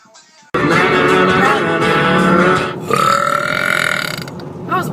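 A young woman lets out one long, loud, gurgling burp lasting a few seconds, fading briefly and then rising again before trailing off, close and alone with no talk over it.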